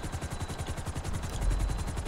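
Helicopter in the GTA 5 video game, a loud close rotor with fast rhythmic thumping chops over a steady engine whine, heard alone without talk.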